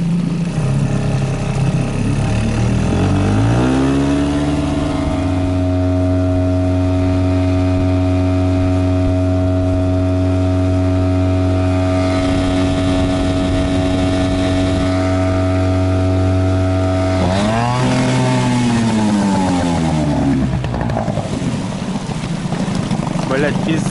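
An outboard motor boat runs through river rapids in the taiga, its engine a loud, steady droning hum that shifts pitch at about four seconds and again near seventeen seconds as the motor works against the current.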